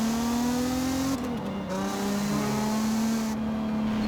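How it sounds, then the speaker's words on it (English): A stock-engined Nissan 350Z with no exhaust in the racing game Forza Horizon 5, a steady loud engine drone with a brief dip and rise in revs partway through, no talking. "they've changed the sound of the stock engine with no exhaust,"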